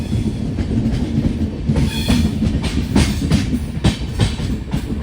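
Karwar Express between Mangaluru and Yesvantpur, heard from aboard as it nears a tunnel: a loud, continuous rumble with rhythmic clickety-clack of wheels over rail joints and faint squeals.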